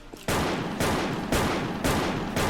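Gunfire from the WolfTeam shooter game, the M-500 Pro weapon, blasts in five loud, evenly spaced heavy shots about half a second apart, each one ringing out broadly and nearly filling the gap before the next.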